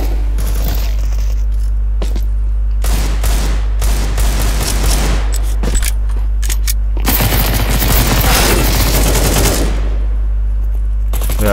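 AK rifle fire in Counter-Strike 2 on the Anubis map in a competitive match: loud, rapid automatic bursts cracking over a steady low hum, with a long sustained spray near the end.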